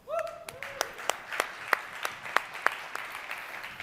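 Audience at a corporate conference applauding, a modest round of scattered, fairly distinct claps that begins with a brief voice and then continues steadily, moderately close and not very loud.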